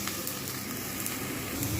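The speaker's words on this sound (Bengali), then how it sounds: "মাছটা কমিয়ে কিন্তু মশলাগুলো আমি কষতে থাকবো" Ginger-garlic paste and spices frying in a pan for dahi pona fish curry, a steady soft sizzle hissing evenly throughout without a pause.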